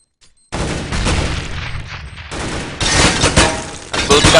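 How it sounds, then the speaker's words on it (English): Dense video game gunfire in a competitive match, with rapid bursts of shots and impacts on walls, loud and continuous after a brief quiet start, growing heavier toward the end. "Ceramics and bullets flying everywhere."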